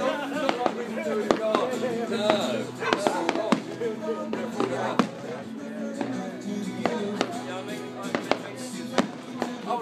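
Fireworks going off at a West Hill display, with repeated sharp pops and crackles scattered over a steady crowd murmur, and people chatting nearby throughout.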